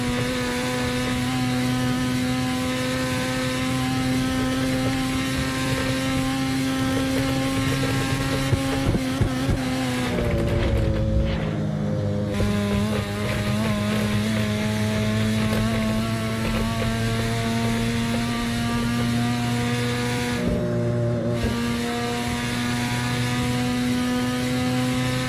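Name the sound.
car engine revving at top speed in Assetto Corsa video game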